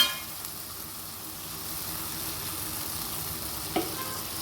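Lemon pickle with spices, fenugreek powder, asafoetida and vinegar, stirred in a pan, giving a steady close scraping sizzle with one sharp knock near the end.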